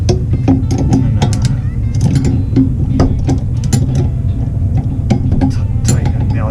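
Fittings being tightened on a Weil-McLain Aqua Plus boiler, with rapid metallic ratcheting clicks and clinks from a wrench in bursts over a low background hum.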